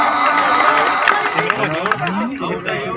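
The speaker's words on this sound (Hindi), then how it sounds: "जोरदार तालियां।" Crowd at an outdoor kabaddi match in Daijal, Bhakkar district, applauding and cheering loudly throughout, with shouting voices and a commentator talking over the noise.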